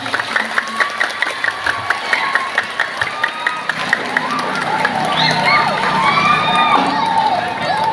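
A crowd at a Maulid Nabi religious gathering claps and cheers for a rebana frame-drum group, first in rhythmic, evenly spaced claps, then in loud, continuous applause mixed with shouts and voices.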